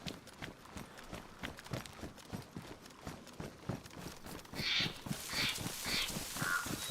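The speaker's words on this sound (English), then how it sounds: "Bird is loud." A loud bird cawing repeatedly, harsh calls over a steady rhythmic clopping and rustling background, growing more prominent toward the end.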